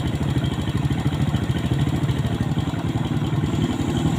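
A Yamaha Jupiter Robot motorcycle engine idles steadily up close after an ignition coil fault, its rapid even putter holding a constant level throughout.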